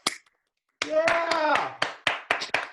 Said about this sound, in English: Let's give Phil a round of applause.